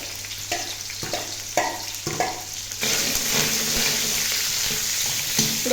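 Chopped onion frying in oil with curry leaves and tempering spices, with a few clanks of a stirring spoon at first, then a loud, continuous close sizzle.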